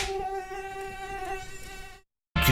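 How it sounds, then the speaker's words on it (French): A mosquito whines in a hot bedroom, a loud, close, sustained buzzing tone that wavers slightly before cutting off abruptly into silence near the end. "Il y a un moustique dans la pièce."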